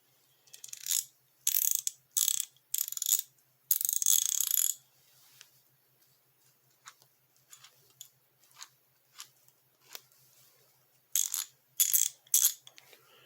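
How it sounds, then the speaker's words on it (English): An SK USA hand ratchet, cleaned up but with worn teeth inside its head, gives several short bursts of crisp ratcheting clicks, close and alone, with softer isolated ticks between the bursts. "This beautiful SK USA ratchet, cleaned up real nice. Have a listen."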